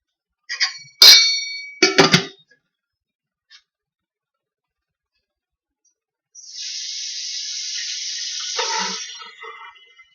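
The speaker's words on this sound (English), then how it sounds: "I'll just use the hot tap water." Hot tap water runs into a kitchen sink, a steady hiss lasting several seconds after a few metallic clanks and knocks. The flow tails off into small splashes and drips.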